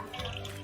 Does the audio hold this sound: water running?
yes